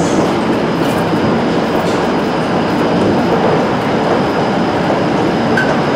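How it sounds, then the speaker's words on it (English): A Class 150 diesel train rumbles along loudly and continuously, wheels clattering on the track in a steady, close drone. "I got class 150 today."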